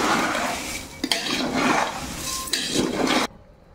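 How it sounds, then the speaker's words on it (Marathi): Two metal spoons mix poha chivda with green chilli in a pan, making a run of scraping clinks and rattles for about three seconds before the sound cuts off to quiet. "दोन चमच्याच्या साह्याने जर मिक्स केलं तर एकदम व्यवस्थित खालपर्यंत मिक्स होतं."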